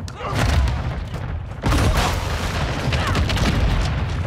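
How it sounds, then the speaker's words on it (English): Mortar strike explosions boom in Call of Duty: Modern Warfare II, a heavy blast near the start and another sharp impact around the middle, followed by sustained rumbling battlefield noise with faint voices underneath. "Friendly mortar strike inbound."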